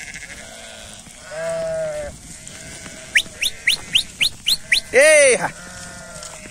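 A flock of pregnant ewes held for sale bleats in several drawn-out, wavering calls, some overlapping. A herder shouts sharp calls and short whistles nearby, and people talk in the background.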